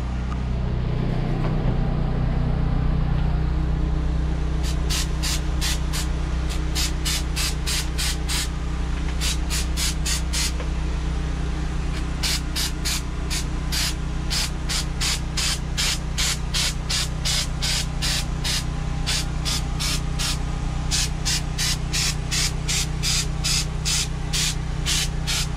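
Spray painting faux granite onto camper counters: a steady airy hiss of spray bursts over a constant low machine hum, with rapid regular pulsing taps through much of the stretch, fairly close and continuous with no talk.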